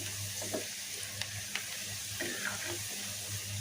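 Onion and garlic fry in mustard oil with a soft, steady sizzle, broken by a few light clinks and stirring taps from a utensil in the pan.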